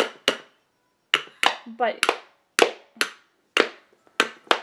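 A child bangs a toy hammer in a living room, about ten sharp, separate knocks in irregular pairs and singles, close and fairly loud, with a brief voice sound in between.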